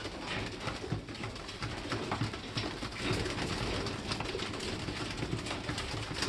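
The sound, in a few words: racing pigeons in the loft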